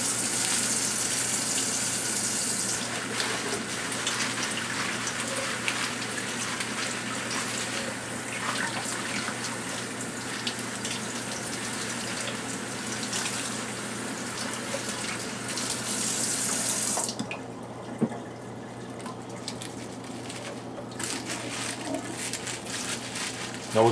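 Spinach leaves rinsed under a running kitchen tap, a steady gush of water that keeps going for most of the stretch, shifts in tone near the end, and stays alone with no talk over it.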